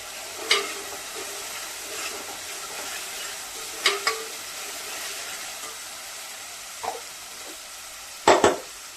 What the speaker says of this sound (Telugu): ఇప్పుడు పేస్ట్ బాగా వేగింది